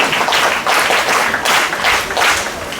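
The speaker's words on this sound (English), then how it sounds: "Please stand, help the students. Clap loudly." An audience claps after a student's speech on space exploration at a school event, steady dense applause lasting the whole stretch in loud, rolling waves.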